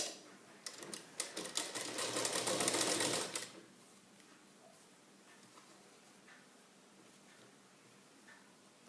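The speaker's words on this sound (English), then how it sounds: "So let us stitch all the layers together." A sewing machine stitches the layers of a blouse lining together in a rapid, rattling run of about three seconds, close and clear, followed by quiet room sound.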